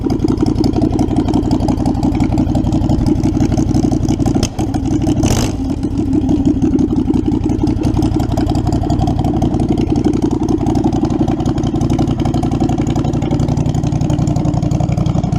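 A Predator 670 engine with a freshly repaired stock carburetor runs steadily and loudly up close, a rough, even mid-pitched idle with one brief blip near the middle and no talking.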